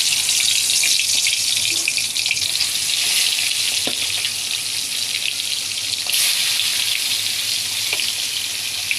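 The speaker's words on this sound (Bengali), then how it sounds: "এবার মাছের মাথাগুলো ভেজে নেব।" Fish heads fry in hot oil, a loud, steady crackling sizzle that fills the whole stretch with a few sharper pops along the way and no talk over it.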